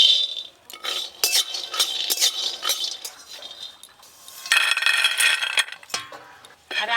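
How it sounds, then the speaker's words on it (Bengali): Peanuts roast in a pan with whole spices for a banana-flower chop, heard as close, bright rattling and clinking of nuts and spatula against metal in uneven bursts, with no talking. "চীনাবাদামগুলো ভালো করে ভেজে নেব।"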